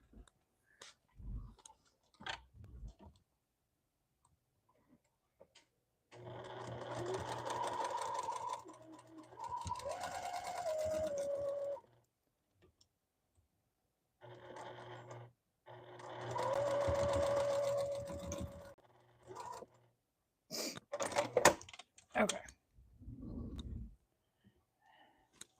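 A domestic sewing machine stitching a hoodie, running in two longer bursts of fast, steady mechanical chatter with short stops between them, surrounded by quiet clicks and handling noises.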